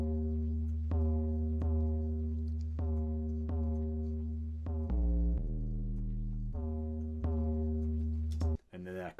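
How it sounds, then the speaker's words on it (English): A heavily resampled, pitched 808 driving the bass line, its deep booming notes sustained and shifting pitch in steady rhythmic hits, loud and up close with no voices over it. "an 808, a pitched 808 that kind of drove the bass line"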